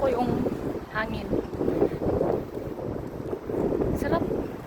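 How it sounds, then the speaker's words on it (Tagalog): Wind gusts across a boat on the water, a continuous rough buffeting rumble close to the microphone, with a voice speaking briefly beneath it. "Gustong gusto ko yung hangin."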